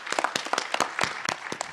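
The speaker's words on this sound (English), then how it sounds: "So a round of applause for the planning team." An indoor audience at an evening community event applauds, a fairly quiet, brief patter of many hands clapping in quick, irregular bursts.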